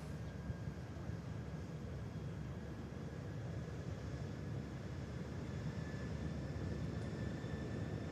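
A Boeing 737-800 arriving from Milan comes in to land at Manchester Airport, its broad engine roar steady and fairly distant, holding at an even level throughout.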